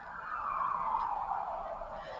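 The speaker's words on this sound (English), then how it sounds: "There are some sirens happening in the background" Distant emergency siren wailing in the background, a single smooth tone sliding down and back up over a couple of seconds, faint and alone without speech.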